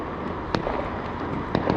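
Fireworks on Bonfire Night, heard as a few brief, fairly distant bangs spaced about a second apart against a steady background rumble.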